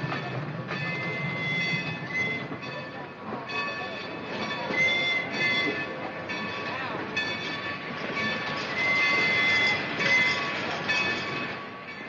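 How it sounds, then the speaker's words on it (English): A train moves along railway tracks in a 1940 film, steady rumbling and clattering of wheels under faint squeals, with tonal horn-like hums over the top, moderately loud and continuous with no clear talk. "Look, the train's moving. That's a train backing in on the other track."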